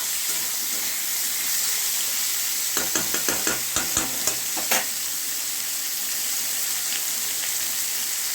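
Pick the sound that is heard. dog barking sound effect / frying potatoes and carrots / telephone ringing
frying potatoes and carrots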